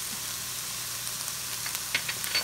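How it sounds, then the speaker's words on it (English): Onions seasoned with salt, pepper and thyme sauté in a pan with a steady, soft sizzle throughout and a couple of faint pops near the end. "I'm going to let this saute for about 4 minutes."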